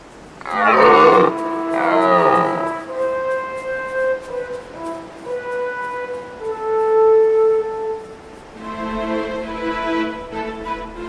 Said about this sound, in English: All day long, the rotting calls of stags echoes from the slopes.